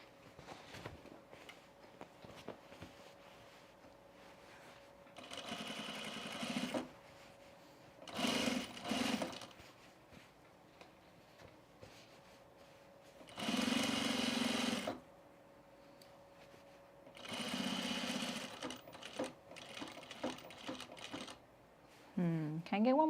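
Overalls being sewn on a sewing machine: several short stitching bursts of varying length, separated by quiet gaps filled with handling noise and soft talk.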